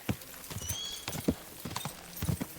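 Horse hooves clip-clop in Kingdom Come Deliverance 2, an uneven series of sharp thuds at a walking pace, moderately close and quiet, with a faint whistling tone partway through.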